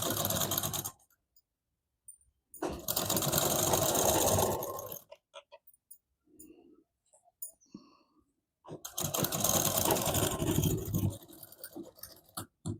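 A sewing machine stitches a double katori blouse in three loud, close bursts of rapid mechanical whirring. Quiet handling noises fill the pauses between runs.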